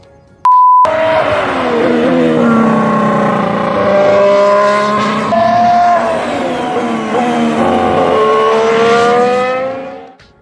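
Formula 1 cars during 2019 pre-season testing scream past on track, a loud sustained high-revving engine whine rising and falling in pitch as cars accelerate and shift, dominating the scene from start to finish.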